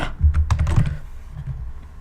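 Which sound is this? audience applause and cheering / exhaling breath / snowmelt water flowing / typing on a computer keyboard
typing on a computer keyboard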